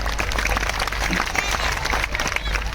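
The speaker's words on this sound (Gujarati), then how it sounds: "મારા ધીરુભાઈને એકદમ જોરદાર તાળીના ગડગડાટથી વધાવો છે." Dense, continuous applause from an audience at a Gujarati folk dayro performance, many hands clapping at once in a steady roar throughout.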